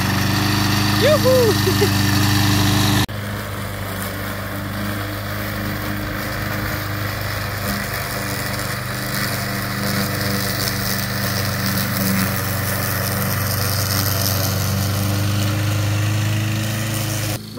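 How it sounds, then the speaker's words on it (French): A small brush cutter mower engine starts first pull and runs steadily at a loud, constant drone, after a brief shout at the start. "c'est notre débroussailleuse tondeuse qu'on avait achetée sur une brocante"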